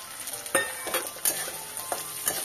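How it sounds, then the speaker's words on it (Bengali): Cashews and raisins sizzling in a pan, a soft continuous frying hiss punctuated by about five sharp scrapes and clinks of stirring, close and without speech. "কিশমিশ গুলো একটু ভাজা ভাজা ভেজে নিলে"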